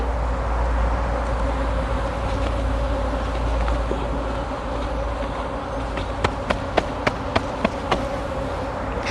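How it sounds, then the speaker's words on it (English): Upset honey bees swarm around a beehive, a dense, steady droning buzz close by with sharp clicks and taps in the last few seconds; no talking. "there's just a lot of bees. You can hear them. They're very upset now. They're flying all around me."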